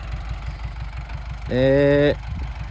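Valmet 85 ID tractor, 78 CV with an MWM diesel engine, idling nearby with a steady low chugging pulse, briefly overlaid by a loud voice partway through.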